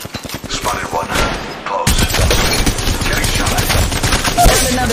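Rapid bursts of automatic gunfire in the Apex Legends Mobile battle royale shooter, loud and dense, continuing almost without pause through a ranked firefight, with brief in-game voice callouts.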